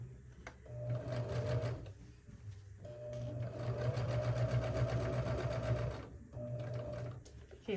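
A sewing machine runs in steady bursts while stitching around the edge of a fabric tote bag, its rapid mechanical chatter loud and close, with brief pauses between runs.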